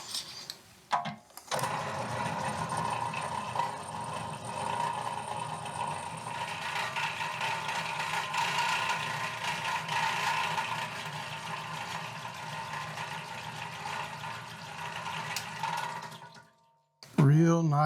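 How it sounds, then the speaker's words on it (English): Holes in linerlock knife parts are reamed, with a steady, close mechanical whir running for about fifteen seconds before cutting off near the end. "So I'm gonna go ahead and get these reamed."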